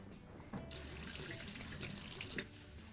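Tap water runs steadily into a kitchen sink while hands are washed, a continuous close splashing flow with a brief louder surge partway through and no talking.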